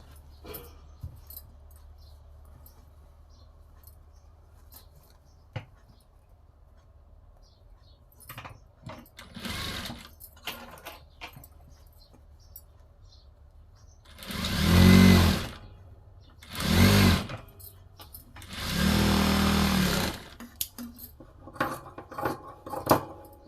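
A sewing machine stitches a blouse seam in three short, loud bursts, each lasting about a second or so, after a quiet stretch of faint clinks and handling noises.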